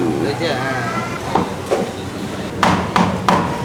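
Knife chopping fish on a board at a Penang street food stall, with three or four sharp, loud chops near the end, preceded by a couple of lighter knocks, while people talk over steady market chatter.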